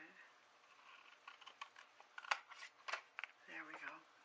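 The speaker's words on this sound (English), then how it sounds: "Let me cut that straight." Scissors snipping paper straight while a handmade junk journal is being crafted, a run of quiet, close crisp cuts and rustles, with a brief voice near the end.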